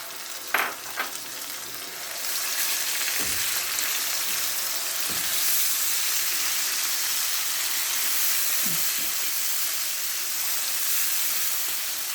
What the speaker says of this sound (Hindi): इस वक्त मैं इसमें ये जो टमाटर और हरी मिर्च का पेस्ट है ये मैं डाल रही हूँ।